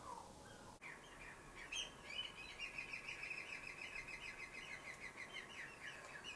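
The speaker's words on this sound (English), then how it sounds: "You guys can hear the seagulls." Seagulls calling faintly in the distance, a busy run of chirps and squawks over steady outdoor background noise, with a brief knock near the start.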